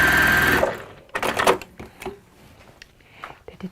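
A sewing machine stitches down fabric in a rapid, loud whirring burst that stops after about half a second, followed by scattered handling clicks and rustles.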